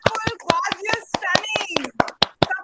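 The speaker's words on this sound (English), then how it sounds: "Clap for yourselves." Students at an Independence Day school function clap in scattered, uneven bursts, sharp individual claps mixed with overlapping voices and children's chatter close by.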